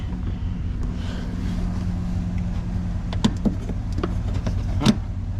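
A van engine idles with a steady low rumble and hum under a wash of wind noise, broken by a few sharp knocks and clatters near the end.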